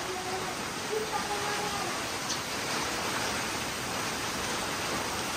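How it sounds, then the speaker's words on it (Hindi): Heavy rain pours down in a village, a steady, dense hiss that stays even throughout, with voices faint beneath it. "बारिश देखो एकदम से कितनी तेज आ गई,"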